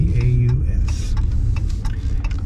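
A car drives along a coastal road near Bass Harbor, Maine, with a steady low engine and road rumble throughout and a few faint clicks on top.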